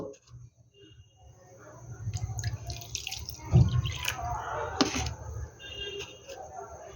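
A bowl of water, about one and a half measures, is poured over washed Gobindobhog rice in a cooking pot. The pouring and splashing swells in the middle and runs continuously, close by, with a voice speaking over it.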